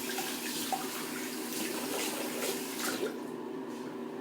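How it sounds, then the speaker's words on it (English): Tap water runs steadily into a sink while something is rinsed under the stream, a continuous near hiss with small splashes and no talking. "Let me rinse up here."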